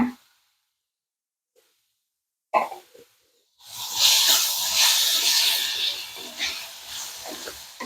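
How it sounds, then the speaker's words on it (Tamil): Tomatoes sautéing in a pan with garlic paste while making masala bun: after near silence and a brief splash, a loud steady sizzling hiss rises and holds, with faint scraping. "தக்காளி நல்லா வதங்கட்டுங்க"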